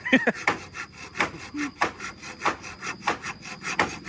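Rhythmic back-and-forth sawing through wood, close and steady, with repeated rasping strokes roughly every half second.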